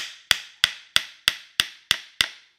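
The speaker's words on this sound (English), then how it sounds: "We kind of just hammer it, nail it together." Seven sharp hammer blows drive nails into a wooden crate, evenly spaced at a steady rhythm, each a loud close crack with a short woody ring, no voices.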